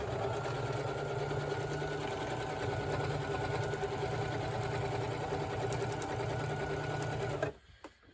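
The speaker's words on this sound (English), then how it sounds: "Now I like to make a single straight stitch first and then go back over it." A sewing machine runs steadily for about seven seconds, sewing a straight stitch through hoodie material. Its motor hum is loud and close, then it stops abruptly.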